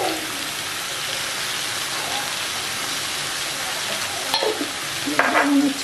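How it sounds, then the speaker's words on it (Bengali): Paneer curry with spices being stirred and fried in a pan, giving a steady, rain-like sizzle throughout, with a few louder scrapes and clatters of the spoon near the end. "তরকারিটাকে নেড়ে মিশিয়ে এবার কষিয়ে নেবো একটু"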